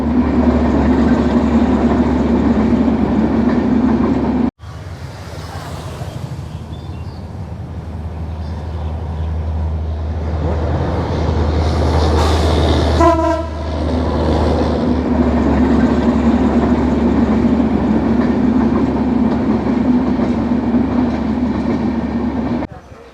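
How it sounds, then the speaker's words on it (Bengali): Maitree Express passenger train from Kolkata bound for Dhaka rolling through Solop station, a loud sustained rumble and rattle of wagons passing close by, with a brief horn-like tone midway and clattering wheels throughout. "মৈত্রী এক্সপ্রেস ট্রেন যাচ্ছে কলকাতা থেকে আসলো ঢাকার উদ্দেশ্যে যাচ্ছে এখন সলপ স্টেশন ক্রস করতেছে"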